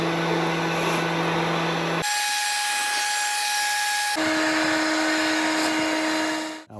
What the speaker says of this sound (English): we're gonna use our leaf blower to dry off all that excess water